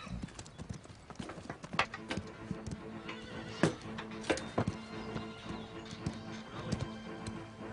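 Horse hooves clip-clop in an irregular rhythm with sharp, distinct hits, and a horse neighs amid the steps, moderately close and otherwise uncovered by talk.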